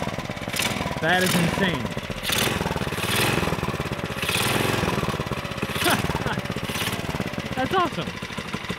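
Tecumseh small engine running on a Mikuni carburetor, a loud steady buzzing drone with rhythmic pulsing revs close by, while people talk excitedly over it.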